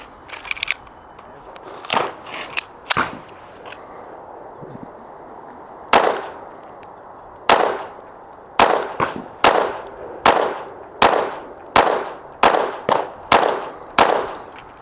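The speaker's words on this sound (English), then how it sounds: "we're going to start off with the XD in 22" A Springfield XD pistol chambered in .22 caliber fires a series of sharp, loud shots on a range, a few spaced at first and then a quick steady string of about a dozen rapid reports, with no talking.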